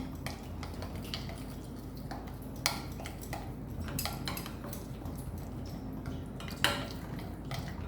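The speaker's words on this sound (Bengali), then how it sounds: "এবার মিক্স করে নেবো ভালো করে" Mustard oil and turmeric spice paste are stirred together in a bowl, producing soft continuous scraping and squishing with a few sharper clinks of utensil on dish, fairly quiet and close.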